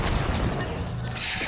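A booming, wideband RPG blast in Fortnite fills the whole moment, loud and dense with crackling debris.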